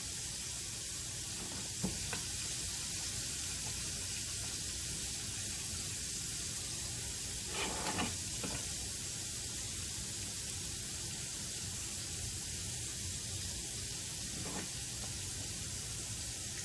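Meatloaf meatballs sizzle steadily in a frying pan, a constant close hiss with a few brief clinks and stirs from cooking utensils.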